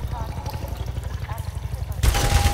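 Rapid gunfire in Half-Life 2 crackles in a fast, evenly spaced burst, followed by a louder, harsher blast near the end, with game sounds underneath.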